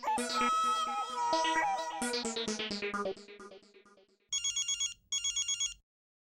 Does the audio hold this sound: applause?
no